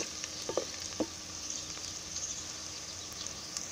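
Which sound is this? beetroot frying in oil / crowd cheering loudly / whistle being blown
beetroot frying in oil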